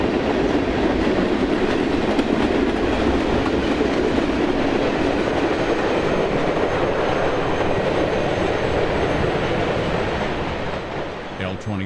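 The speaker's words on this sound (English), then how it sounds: "Indiana and Ohio Symbol Train number 400 heads west, powered by two former Southern Pacific tunnel motors." Indiana and Ohio freight train 400 heading west behind two former Southern Pacific tunnel motor locomotives, a loud, continuous roar of engines and rolling wheels passing close by, easing off at the very end.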